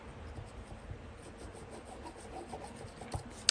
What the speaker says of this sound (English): So now we are just going to glue this flap down.